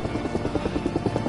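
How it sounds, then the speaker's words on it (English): Helicopter in a video game, a close, steady rotor thump with rapid regular beats over a low engine drone, brief and continuous. "That's a thick chopper right there."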